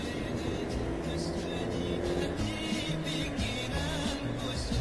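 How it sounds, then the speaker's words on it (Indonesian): A large Yanti Group bus's engine and exhaust rumble steadily nearby amid busy road traffic, deep and continuous with shifting tones. "Suara knalpotnya khas kalau Yanti Group ini, yang ukuran besarnya bus."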